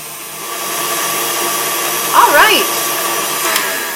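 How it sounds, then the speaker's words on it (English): An electric mixer whirs steadily while blending cream cheese filling for crepes, a continuous close motor drone with a brief change in pitch partway through, heard alone. "we're going to take it over to the mixer and blend this until it's nice and light and frothy"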